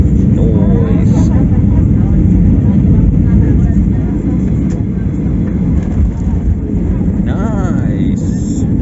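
Loud, steady aircraft engine roar fills a short flight in Morocco, droning continuously with no breaks while faint voices talk underneath.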